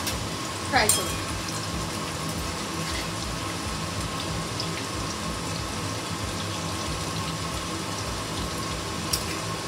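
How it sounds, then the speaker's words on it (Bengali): Prawn pakora frying in hot oil in a kadai, giving a steady, dense sizzle and crackle throughout with a brief brighter spatter near the start. "এবার আমি একটা করে কড়াইতে ছেড়ে দেবো। তেলটা আমার গরম হয়ে গেছে।"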